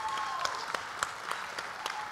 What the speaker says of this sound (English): come on, guys, let's cheer him.